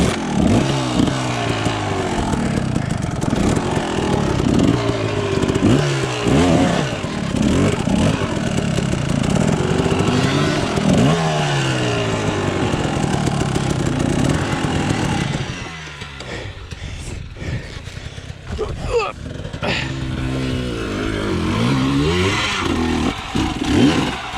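A Kawasaki KDX 250 two-stroke dirt bike engine revs and roars continuously as riders loop it on an outdoor trail, loud and close, rising and falling with throttle, briefly easing off before surging again.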